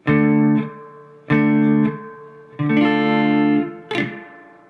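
Electric guitar plays a song intro, part 2, slowly: four separate distorted chords rung out one after another, each held and fading, loud and close with no voice.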